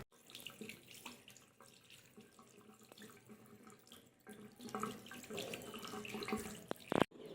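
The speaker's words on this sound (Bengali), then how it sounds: "তো এখন ধুয়ে ফেলবো জল দিয়ে, তারপরে কি হয় দেখা যাক।" Tap water runs steadily while dried henna is washed off hands, the stream splashing and shifting as the hands move beneath it, close up, ending with a sharp clatter.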